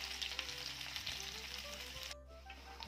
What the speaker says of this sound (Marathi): तर हे आधी तेलामध्ये चांगले परतून घेऊया